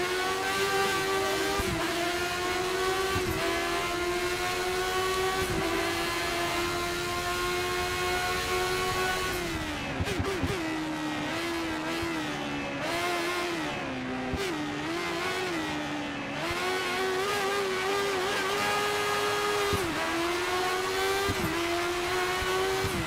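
Race car engine from the F1 2013 video game, Classic GP mode with 1980s cars at Silverstone or the Nürburgring, a loud continuous drone whose pitch dips and climbs through gear changes and throttle lifts, running steadily with no talk.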